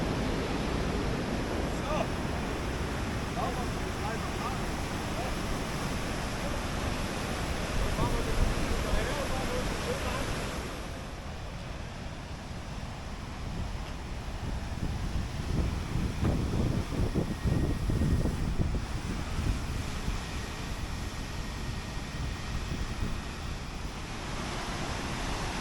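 Rjoandfossen waterfall in the Norwegian mountains roars as a steady, loud broadband rush throughout, swelling slightly midway, with wind buffeting the microphone and people talking briefly.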